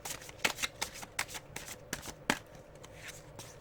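Tarot cards shuffle close by in quick irregular riffles and flicks, a series of sharp papery bursts with short gaps, alone without talk.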